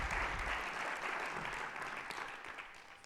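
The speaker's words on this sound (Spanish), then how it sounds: "Pues un aplauso para los," Applause from an audience at a science and innovation event on sustainable mobility, steady and moderately distant, slowly fading over about three seconds with no talk over it.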